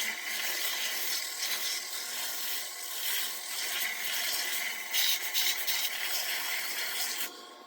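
Wood being sanded on a spinning lathe makes a constant bright, hissing rasp, steady throughout and stopping abruptly at the end.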